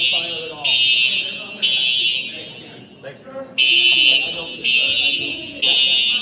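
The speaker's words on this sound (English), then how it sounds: "Fire alarm pulled." A pulled fire alarm sounds in loud, regular bursts of shrill buzzing, each about a second long with short gaps between, while people talk over and between the blasts.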